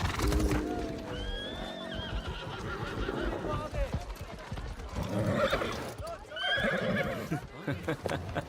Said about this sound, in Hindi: शानदार घोड़ा।